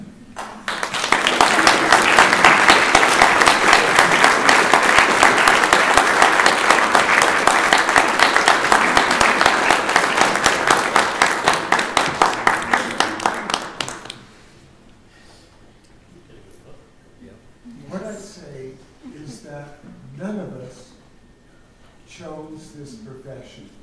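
Loud sustained clapping from an audience at a spring graduation reception for a public affairs school, lasting about fourteen seconds before fading, followed by someone speaking over a quiet room.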